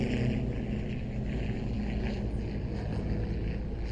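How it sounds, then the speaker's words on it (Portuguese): An airplane passes overhead, a faint, distant droning rumble that holds steady and low in level throughout, with no voices over it. "tá passando um avião aqui, gente"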